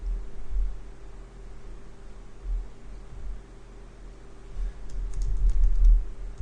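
Typing on a computer keyboard while writing test code for an immutable singly linked list, with soft, irregular key clicks that build into a denser, louder run near the end over a low steady hum.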